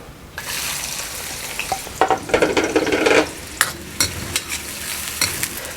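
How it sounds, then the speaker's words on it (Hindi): Onions frying in hot oil in a pan for a dhaba-style dal chana fry, a steady loud sizzle with stirring and clinking utensil scrapes throughout, no talking. "तो अब इसी ऑयल के अंदर ये प्याज शामिल कर लेते हैं।"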